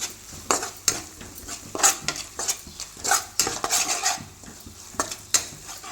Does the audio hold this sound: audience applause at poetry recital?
no